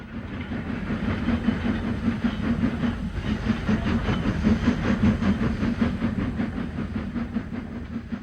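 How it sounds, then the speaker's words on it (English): Steam locomotive 46226 Duchess of Norfolk, a heavily loaded fish train leaving Perth, rumbles close and loud with rapid rhythmic exhaust beats and steady wheel clatter, sustained without any speech. "Leaving Perth is 46226 Duchess of Norfolk, with the heavily loaded 4:45 p.m. fish train for Carlisle"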